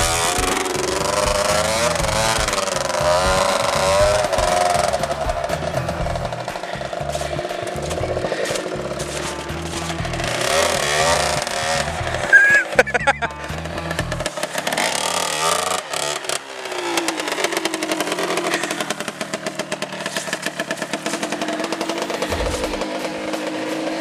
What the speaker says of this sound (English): the engine's running fine